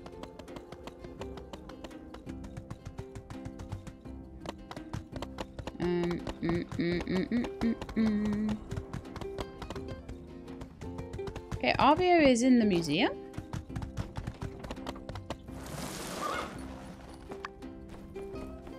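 Horse hooves clip-clop in a steady, regular rhythm in the video game My Time at Sandrock, set among game music and chimes while someone talks over it.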